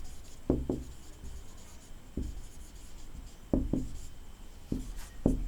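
Marker or chalk strokes on a classroom board during an English grammar lesson, several short scratchy bursts in small clusters spaced across the span, fairly close and moderately loud with no talk over them.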